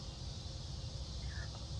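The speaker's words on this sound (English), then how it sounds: "listen. Your crickets." Crickets chirp at a quiet rural campground in Cottageville, a faint steady insect trill carried over soft ambient background with no talking.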